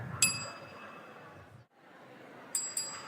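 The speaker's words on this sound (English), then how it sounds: "Time's up. That's a rubbish bell." Small bell rung at a speaking event to signal time is up, a couple of faint metallic dings at the start and again near the end over low room murmur.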